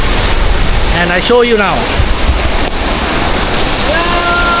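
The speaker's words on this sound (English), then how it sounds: "You can see how tall the waterfall in front of me," A tall waterfall on Mount Rinjani roars as broadband rushing water noise with wind buffeting the microphone, steady and loud throughout while someone speaks over it and brief whistling tones appear near the end.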